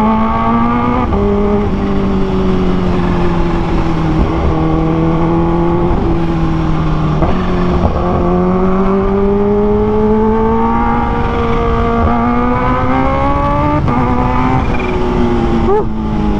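A supercharged 2023 Kawasaki H2 Carbon motorcycle engine drones loudly and continuously at high rpm, its pitch climbing and dropping with gear changes.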